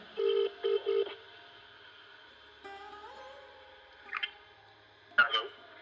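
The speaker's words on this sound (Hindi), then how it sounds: "फिर उन्होंने जेब से फ़ोन निकाला और एक नंबर मिलाया।" Keypad tones from a phone as a number is dialed: a quick run of three short beeps, a pause with faint room tone, then two brief bursts of further button presses, close and clear with no talking.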